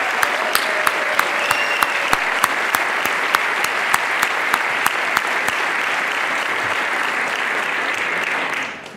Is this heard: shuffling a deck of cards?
no